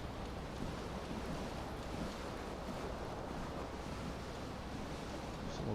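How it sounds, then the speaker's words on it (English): Water sprays from the base of a bent, broken bathroom sink faucet in the video game Disco Elysium, a steady, unbroken rushing hiss that holds at an even level throughout. "water sprays from the base and steam covers the mirror"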